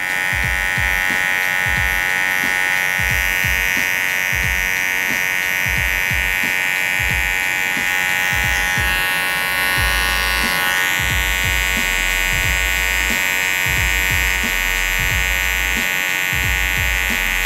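An electric hair clipper buzzes steadily and close while it trims a vintage combover, its constant high hum broken by rapid rhythmic clicks and scrapes as it moves through the hair.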